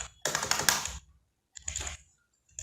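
Rapid typing on a computer keyboard while entering Android code, two dense bursts of clicking keys separated by a short pause, close and clear with no talk.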